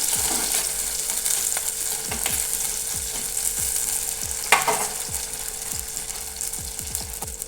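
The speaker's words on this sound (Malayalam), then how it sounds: "ഇനി കുറച്ച് ചെറിയ ഉള്ളി നീളത്തിൽ കട്ട് ചെയ്ത് ഇതിലോട്ട് ഇട്ടുകൊടുക്കാം ഇനി നന്നായിട്ടൊന്ന് വഴറ്റിയെടുക്കാം" Long-sliced small onions sauté in a pan for a Kerala sardine curry, giving a continuous close sizzle with steady scraping strokes from stirring and one sharper clink.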